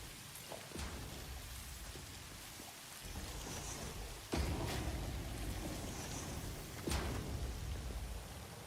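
Rain and thunder in a factory-building video game: a steady, dense hiss of rainfall runs throughout, with a few sharp cracks and louder swells rising out of it, and no voices.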